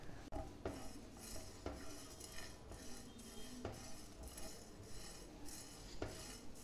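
Cloves, cumin, fennel seeds and mace dry roasting over low heat in a pan, a soft steady rustle and faint crackle with a few light taps of a utensil against the pan, close and quiet.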